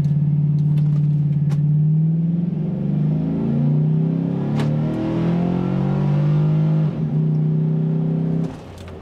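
Chevrolet Trailblazer SS with a swapped intake accelerating hard from a standstill in a 0-50 run, a loud sustained engine drone rising slowly in pitch through the gears, then suddenly dropping off at the end.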